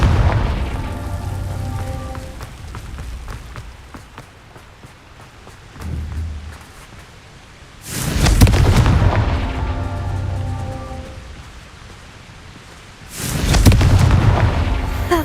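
Confringo fire spell blasts in the Hogwarts Legacy video game, two heavy booming explosions several seconds apart with rumbling tails, separated by quieter combat sounds.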